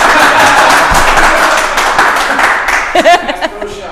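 Applause from an audience, fairly loud and steady at first, then thinning out as a few voices come through near the end.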